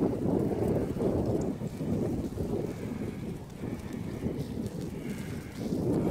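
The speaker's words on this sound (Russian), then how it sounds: "какой ветер сильный" Strong wind buffets the microphone at the site of a demolished former military compound, with a steady, heavy low roar that surges and dips throughout.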